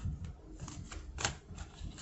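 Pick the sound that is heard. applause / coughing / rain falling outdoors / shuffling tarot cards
shuffling tarot cards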